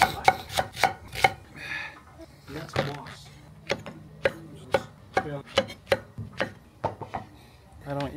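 A knife chops mushrooms and onions on a board as barbecue prep, producing a string of sharp, fairly regular close knocks, with a quick flurry at the start.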